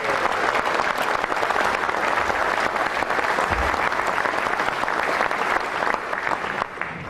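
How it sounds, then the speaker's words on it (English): A conference audience claps in a dense, sustained round of applause at a party conference speech, steady and loud throughout with no voices over it. "you all deserve a strong round of applause"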